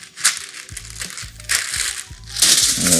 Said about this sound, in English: Now I'm going to cover it with another piece of parchment paper.